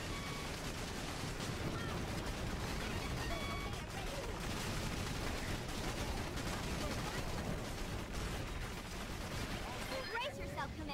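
Machine gun nests in the Battalion Wars game fire in dense, continuous bursts that blend with explosions into a loud, unbroken battle din lasting the whole stretch, with speech mixed in underneath.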